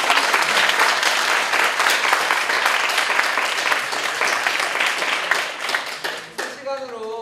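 A large audience at a university student council election candidate forum breaks into sustained, dense applause, loud and even for several seconds before it thins out and a voice begins speaking near the end.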